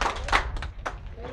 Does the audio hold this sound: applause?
yes